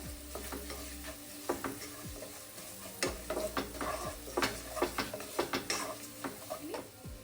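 Turmeric and chilli powder sautéing in a pan for beans poriyal, a quiet sizzle under a quick run of spatula scrapes and taps on metal, busiest in the second half, with no talking.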